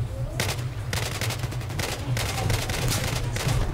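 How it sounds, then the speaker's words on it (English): Rapid bursts of automatic gunfire in a shooter video game come in repeated volleys with brief gaps. The firing is loud and continuous throughout, with faint voices beneath. "I can see where you're shooting."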